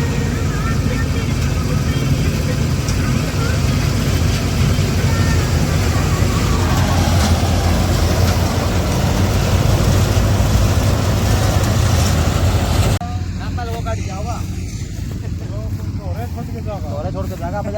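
A tractor engine runs steadily in a farm field, a constant loud mechanical drone throughout while people talk over it nearby.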